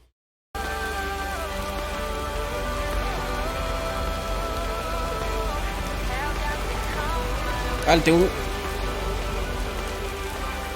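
Steady rain hisses throughout a rainy scene in the video game Lake, with game music and a brief sharp effect near the end, while someone speaks briefly over it.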